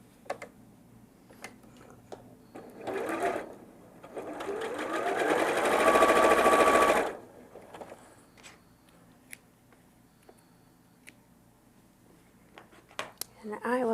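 A sewing machine stitches quilt background fabric pieces together, with a short burst of stitching followed by a longer steady run of a few seconds, amid scattered light clicks and handling ticks.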